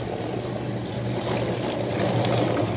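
Water hisses steadily from a shower head in a chicken-processing setup outdoors, a dense close spray that holds constant and swells slightly toward the end.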